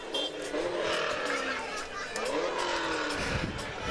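A lowered orange car rolls past in a street parade, its engine rumbling and revving amid crowd chatter and background voices, fairly close and steady throughout.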